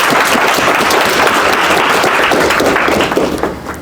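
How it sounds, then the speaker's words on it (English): Audience applause for a guest speaker at a talk, a dense, steady wash of clapping filling the room, loud and sustained before tapering off near the end. "please give a big round of applause to our guest today"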